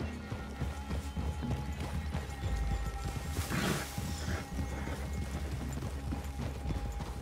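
Rhythmic clip-clop of horses' hooves in a video game, steady and fairly close throughout, with a brief crash or rustle in the middle.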